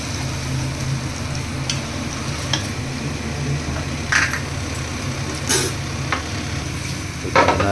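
Chopped tomatoes and masala sautéing in a pan for dum biryani, with a continuous soft sizzle and occasional scraping stirs of a spoon, close up and without talk.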